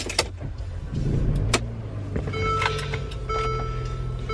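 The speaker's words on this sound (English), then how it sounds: "Did my car crank up?" On a chilly morning a car engine cranks and catches, then settles into a steady idle with a faint tonal whine held underneath.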